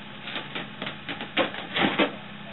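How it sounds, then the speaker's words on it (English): Small aquarium fish air pump inflating a 24-inch blue balloon, bouncing and buzzing against it. Faint, irregular rattling taps come in quick clusters throughout, quiet and close with no voices. "I let the fish pump go, bouncing up and down"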